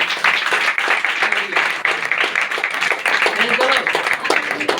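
Clapping from a church congregation at a Hindi prayer meeting, uneven bursts of hands mixed with a preacher's voice speaking over it nearby.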